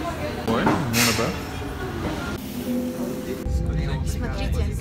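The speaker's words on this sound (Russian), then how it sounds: "Смотрите, мы едем сейчас на трамвае в Белем." Lisbon's 15E tram rumbles along toward Belém with a steady rolling roar, squeals and shifting mechanical tones, while passengers talk over the noise inside the car.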